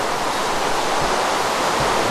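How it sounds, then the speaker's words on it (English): Rain in the video game Minecraft pours in a dense, continuous rush, a steady hiss of falling water with no voices. "the sound of the rain can get pretty annoying"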